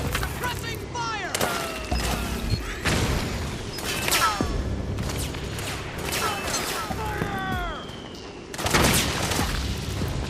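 Suppressing gunfire in Metal Gear Solid 4 rattles in repeated loud bursts and fusillades, mixed with whooshing and mechanical clatter, amid game chaos and shouted voices.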